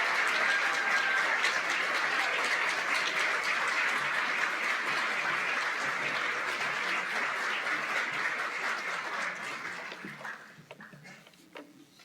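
Audience applause at the State of the College 2024 event welcoming a speaker to the stage, steady and full for about ten seconds before tapering off into scattered claps.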